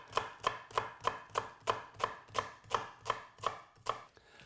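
An onion being sliced with a knife on a board, about a dozen crisp, evenly spaced chops in a steady rhythm, close and clear, no talking.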